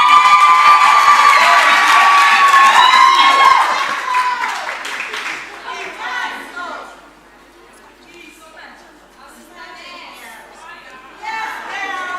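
A graduation ceremony crowd at the ARWYP Training Institute cheers and claps for the graduates, loud at first with shrill ululating cries, then easing into scattered clapping and chatter before swelling again.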